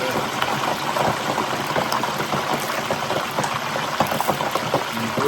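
Boudin-stuffed egg rolls bubble in hot oil inside a fryer basket, a steady dense sizzle and crackle running throughout at an even, fairly loud level with no voices.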